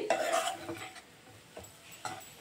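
A spoon stirs and scrapes coarsely ground meal maker with onion masala in a pan. There are a few brief scraping strokes and clinks, fairly close but soft, with quiet gaps between them.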